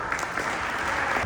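Crowd at the San Marco fair in San Bonifacio applauding the vice-prefect, a short, continuous patter of many hands clapping at even loudness.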